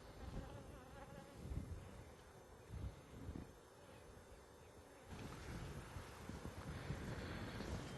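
Honey bees buzz steadily around a hive, a dense droning hum with wind rumbling against the microphone, louder bursts as insects pass near.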